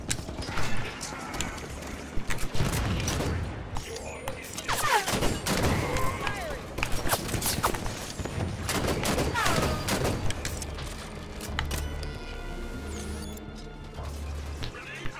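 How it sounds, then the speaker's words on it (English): Automated turrets in Halo 5 fire heavy sustained bursts of gunfire amid crashes and mechanical clatter during a rumbling earthquake, loud and chaotic throughout. "Turrets on and firing."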